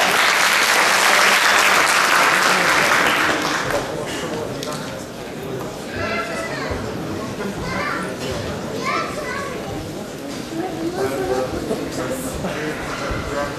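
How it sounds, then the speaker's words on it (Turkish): Loud, dense applause erupts at a 2011 graduation night as a graduate is invited to speak, then eases into lighter scattered clapping mixed with crowd chatter and children's voices. "Bangladeş'ten Münevver Hüseyin'i davet ediyoruz alkışlarınızla."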